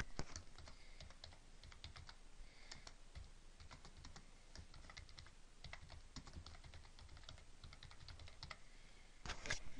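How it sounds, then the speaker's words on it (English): Continuous quick tapping on a computer keyboard, close and fairly quiet, with uneven bursts of keystrokes and no talking. "All right, I'm just going to type."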